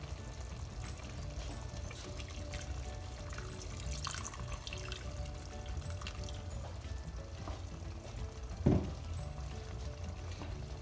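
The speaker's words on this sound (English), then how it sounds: "add some hot water and get that cooking as well" Hot water is poured into a simmering lamb and pumpkin curry for a traditional Bangladeshi recipe, a quiet steady liquid pour with a brief louder splash near the end.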